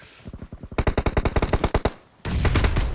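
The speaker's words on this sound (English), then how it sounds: "Headshot with the M4" M4 assault rifle fire in PUBG: a rapid run of roughly a dozen close, punchy shots followed by a brief gap and a denser, louder burst of fire.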